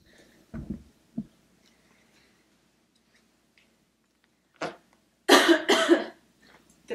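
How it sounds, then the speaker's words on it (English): A couple of soft coughs early, then quiet, followed by a louder, harsher burst of coughing near the end. "Did I hear a cough?"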